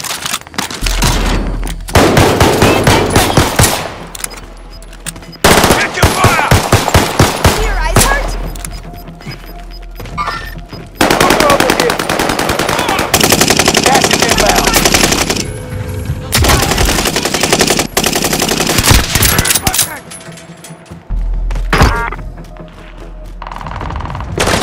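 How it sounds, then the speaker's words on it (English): Submachine gun fire in Call of Duty, loud close bursts of rapid automatic shots broken by short pauses, with heavy low thumps and battle noise throughout. "Submachine gun."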